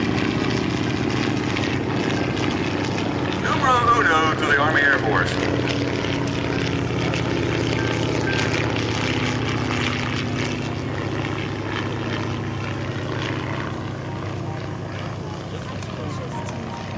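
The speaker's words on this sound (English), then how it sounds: "Now this silver PT-23 coming through for us right now" A silver PT-23 primary trainer with a radial engine flies past at a warbirds airshow, its propeller drone loud and steady before slowly fading, while an announcer talks over it.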